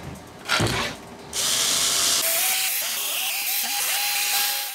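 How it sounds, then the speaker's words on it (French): A power driver whirs in sustained bursts while the aluminium frame of an xTool D1 Pro 20W diode laser engraver is screwed together, close and loud, a brief buzz followed by a steady high drone. "on met les 4 côtés ensemble, on visse tout ça"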